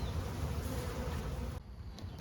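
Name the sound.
swarm of honeybees buzzing in a cardboard box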